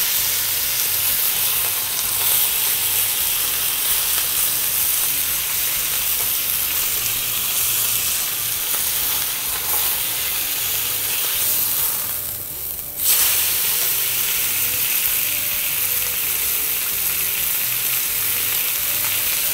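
Beef chuck eye steak sears in a frying pan with a steady, loud sizzle and hiss throughout, dipping briefly partway through before resuming, with no talking.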